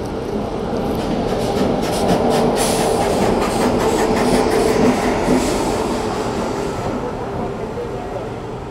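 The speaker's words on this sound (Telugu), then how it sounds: "ఈ ట్రైన్ ఉంది కదా, ఇది పట్లీపుత్ నుండి చండీగఢ్ పోయే పట్లీపుత్ చండీగఢ్ ఎక్స్ప్రెస్ ప్లాట్ఫామ్ నెంబర్ 6 పైకి వచ్చింది" The Pataliputra–Chandigarh Express pulls in at platform 6 of Varanasi station. A loud rumble of wheels and carriages swells toward the middle and then slowly fades, with hissing and a busy platform murmur underneath.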